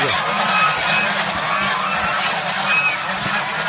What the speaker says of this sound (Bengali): দেখেন ছেলে হাঁসগুলা যে ঝগড়া করতেছে